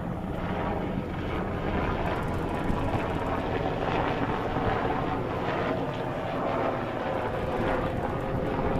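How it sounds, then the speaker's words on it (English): A large military ship's low engine drone passes, steady and loud, with wind buffeting the microphone throughout. "That's some kind of military ship."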